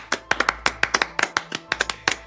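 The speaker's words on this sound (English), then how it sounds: "Give him a round of applause," A small group claps for the winner of a Harry Potter trivia round, sparse distinct handclaps in an uneven rhythm, close and clear with no talking.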